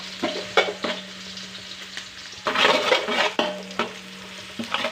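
Crushed garlic frying in a pan for tempering mustard seeds, stirred with a spoon: steady crackling sizzle under repeated scraping strokes, close and moderately loud.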